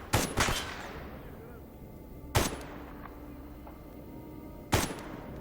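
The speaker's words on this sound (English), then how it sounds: "I'm shooting at him." Gunfire in the shooter game STALKER Anomaly: three sharp, loud shots roughly two seconds apart, the first a quick double, each with a decaying echo tail over a low ambient rumble.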